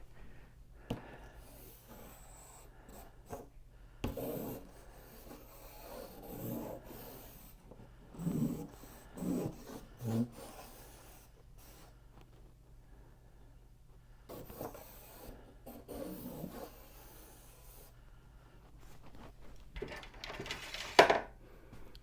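Charcoal fixed to a wooden dowel scratches across a surface in scattered bursts of soft rasping strokes, quiet and close, separated by pauses over about twenty seconds.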